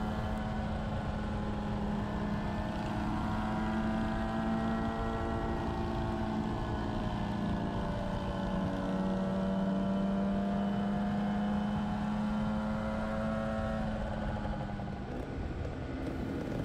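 A 1982 Yamaha RD 250 LC two-stroke motorcycle being ridden, its engine droning at a steady loud whine that rises and falls gently as the revs shift, with wind rush throughout.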